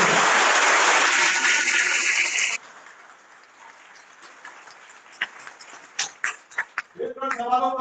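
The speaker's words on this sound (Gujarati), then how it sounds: "એકવાર જોરદાર તાળીઓ આપો." Audience applause at a Thakor Sena district executive meeting in Thasra, Kheda: loud, dense clapping for about two and a half seconds that cuts off, followed by a few scattered claps and murmurs.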